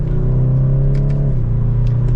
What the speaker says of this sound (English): You can hear a little bit of that turbo sound